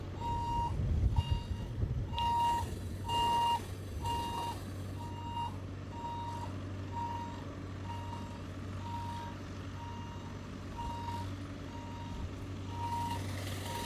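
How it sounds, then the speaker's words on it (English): A giant truck reverses nearby, its backup alarm sounding a steady series of loud, evenly spaced beeps over a constant low engine rumble, with louder knocks and thumps early on. "there's a giant truck backing up behind me."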